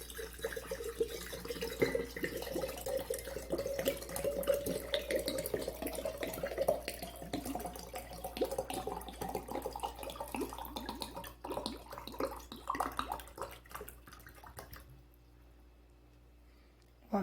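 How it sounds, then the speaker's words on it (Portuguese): Water pours steadily from a bottle into a jug, a continuous splashing gurgle whose pitch slowly rises as the container fills, ending abruptly before a quiet tail. "se eu encher essa garrafa de água e despejar aqui dentro, ela vai caber certinha"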